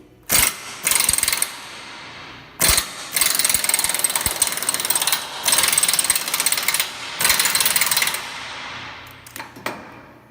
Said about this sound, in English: we can use our air impact to help us line up the bushings